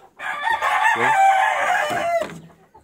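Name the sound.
rooster crowing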